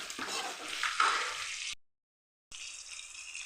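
Onions fry and get stirred in a pan for beetroot poriyal, making a close, steady broadband sizzle and scraping. The sound cuts to a brief silence, then resumes.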